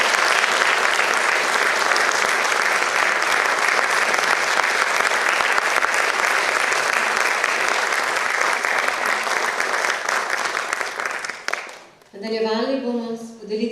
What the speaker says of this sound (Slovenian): Prosila bi za aplavz.